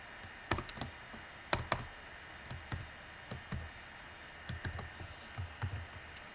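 Keys on a computer keyboard click in short bursts of typing, with a few sharper taps and pauses between, close and fairly quiet in a calm room.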